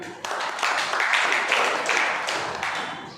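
A seated audience at a business seminar gives a round of applause for new members, a dense burst of clapping that starts suddenly, holds steady, then tapers slightly.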